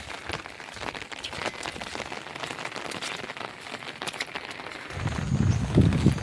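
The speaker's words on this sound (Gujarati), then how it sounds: "જોઈ શકો છો વરસાદ ચાલુ છે ઝીણો ઝીણો" Light drizzle falling outdoors near an ashram, a faint, steady pattering hiss that runs throughout with a slightly heavier, lower rumble near the end.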